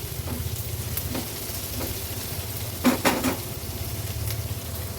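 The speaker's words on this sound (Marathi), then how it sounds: "ती देखील कांद्यासोबत आपल्याला छानपैकी अशी शिजवून घ्यायची आहे" Onions cooking together with a paste in a pan for a tondli masale bhaat, giving a steady low sizzle with a few soft stirring scrapes and light clinks near the middle.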